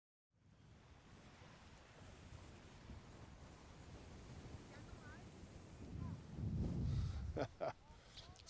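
Strong wind blows steadily across an open seashore in Baja, roaring and buffeting the microphone, with a louder gust rising near the end.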